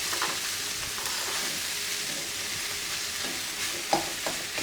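Boiled noodles stir-fried with onion, chilli and egg in a pan, a steady loud sizzle with scraping stirring strokes and a sharper clack near the end.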